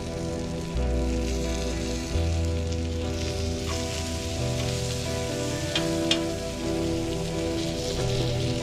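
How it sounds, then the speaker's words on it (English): Butter and onions sizzle on a flat griddle, a steady close crackling hiss lasting throughout with a few sharper pops, over a low sustained tonal hum and no talking. "Gonna add a little bit of butter to our onions."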